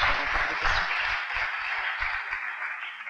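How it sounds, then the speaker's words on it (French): Audience at a conference applauding, a steady wash of many hands clapping at moderate loudness that holds throughout, with low murmurs beneath it early on. "Oui, vous pouvez applaudir."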